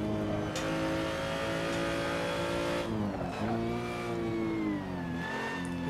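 A BMW 235i race car on the Nordschleife, engine loud and close, revving and holding steady in a harmonic drone, with a gearshift dip partway through before pulling again.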